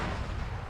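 A vehicle cook-off explosion in a video game produces a dense, loud, rumbling blast that fills the whole brief moment with continuous crackling roar.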